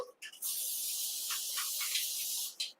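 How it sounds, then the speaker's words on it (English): A continuous aerosol hiss from a can of cooking spray runs for about two seconds, close and fairly quiet, with short bursts just before and after. "Put a little more spray in there again."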